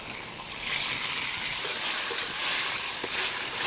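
Close, steady sizzling of shrimp frying in hot oil in a wok for fried kuey teow, with occasional soft clinks and stirring sounds.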